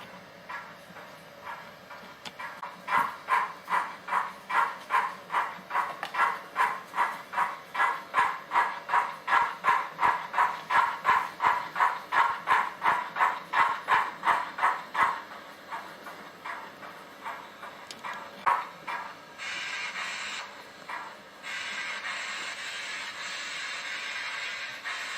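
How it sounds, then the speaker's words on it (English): Locomotive 68935 collecting three coal wagons from Howden Clough Colliery for a pickup goods train, giving a long run of rhythmic exhaust beats that build and fade, followed by a steady hiss of steam. "68935 collects the 3 coal wagons from Howden Clough Colliery and adds them"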